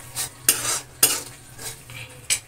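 Salt stirred into a potato and carrot curry with a spoon, making a few distinct scraping strokes against the pot over a faint sizzle, close by and with no voices.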